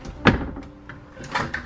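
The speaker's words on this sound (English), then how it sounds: "Oh wow, it's got one of those kind of pivot doors" A pivot-style bathroom door in an RV trailer swings with a short thud and a soft rattle and click, heard close up with light talk nearby.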